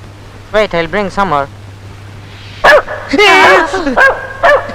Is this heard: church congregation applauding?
no